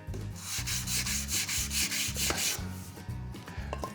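Spalted beech test tube vase being sanded on a lathe with fine-grit paper, producing steady rhythmic rubbing strokes, close and continuous.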